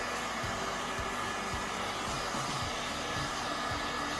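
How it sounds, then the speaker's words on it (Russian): A hair dryer or heat gun blows steadily and loudly at close range, drying the surface around a patch on an inflatable trampoline, a continuous airy roar with no talk. "Теперь с помощью строительного либо же бытового фена мы сушим поверхность."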